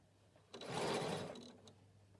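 Sewing machine stitching around the heel of a sock, one short close burst of whirring stitches rising from quiet and trailing off after about a second.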